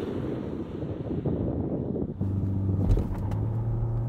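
A 2024 BMW 5 Series with a torque-converter automatic launches hard from a standstill. Rumbling road and wind noise give way to a rising, droning engine tone that climbs steadily in pitch. Close cabin sound, no talking.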